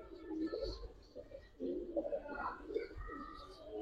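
Giribaz and Indian Kaldam pigeons coo repeatedly inside a cage, soft rolling calls close by with someone speaking over them.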